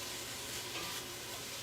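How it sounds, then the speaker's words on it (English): Food fries in a Teflon pan, giving a steady, dense sizzle that holds unbroken and fairly loud throughout. "So now you can hear some sizzle."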